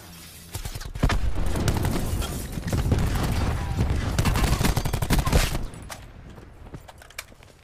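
Rapid gunfire crackles in Call of Duty Black Ops 4 Blackout, a sustained fusillade of close, loud shots lasting several seconds before stopping abruptly, with a few fainter shots after.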